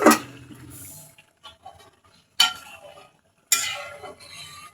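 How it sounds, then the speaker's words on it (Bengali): A ladle stirs lentil dal in a metal cooking pot. Three separate scraping, clinking strokes come close by, each followed by soft liquid sloshing and quiet pauses. "ডালটাকে আমি একটু নেড়ে ছেড়ে দিচ্ছি।"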